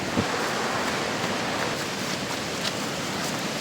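A flood-swollen river rushes past in a steady, dense roar of churning water, loud and unbroken, with no voices over it.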